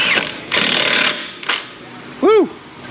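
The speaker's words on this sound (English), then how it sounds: "Impact clicks coming in." An impact wrench works a bolt loose on a Chevrolet Silverado during brake work, giving several loud rattling bursts of hammering with short pauses between, close and dominant in a garage.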